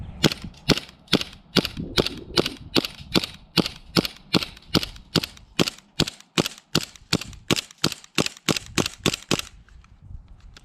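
A KJW Colt Accelerator gas-powered airsoft pistol firing through a full magazine on one gas fill: about two dozen sharp, loud, close shots in a steady quick rhythm, the last few more widely spaced before stopping.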